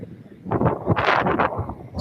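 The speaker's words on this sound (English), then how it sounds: "it's windy too." Gusty wind buffeting a microphone on a city street in Buffalo, New York, rumbling in irregular bursts that rise and fall over a couple of seconds.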